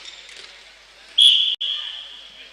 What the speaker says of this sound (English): Late whistle here